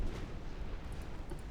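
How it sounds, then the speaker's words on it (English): A torpedo salvo strikes a transport ship in the naval game Ultimate Admiral: Dreadnoughts, giving a short, dense, rumbling low boom with a muffled, sustained roar and no voices. "one of my torpedo salvos is going to slam again into the transport"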